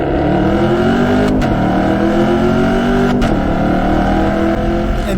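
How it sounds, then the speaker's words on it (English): A 2017 Camaro SS V8, 50th anniversary Transformers edition, runs loud and close with a steady throaty rumble that swells and dips through a couple of throttle changes, no voices over it. "We got the 2017 Camaro SS."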